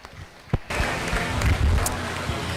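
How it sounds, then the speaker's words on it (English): Audience applause at a 4-H and FFA sheep show at the Washington County Fair, a broad steady clapping that swells in after a brief pause and holds at moderate level through the end. "Let's give them 3 individuals a round of applause."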